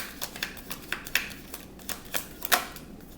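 Tarot cards handled and drawn from a deck, a series of sharp, papery snaps and taps at an uneven pace, close and fairly quiet, with no talk.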